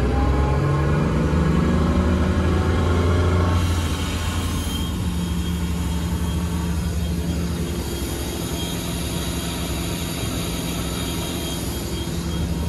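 A Glastron 255 GXL boat with a Volvo Penta 8.1Gi 375 HP engine planing at speed, a steady loud engine drone and rushing water and wind roar, continuous with no voices.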